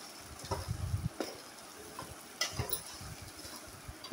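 Okra (bendakaya) frying in a pan while being stirred, with a low sizzle under repeated scraping and stirring strokes that rise and fall over several seconds, close up, with no talk.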